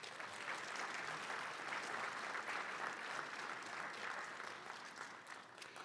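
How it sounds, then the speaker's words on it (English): A round of applause from an audience at a Martin Luther King Jr. celebration, a thick even wash of clapping from many people that holds steady for several seconds, heard at a moderate distance. "So please give them a round of applause."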